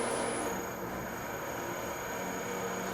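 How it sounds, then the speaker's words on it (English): A wood lathe spins a pen blank with a steady, loud motor drone and a thin high whine that holds for the whole stretch. "So let me go ahead and start the lathe."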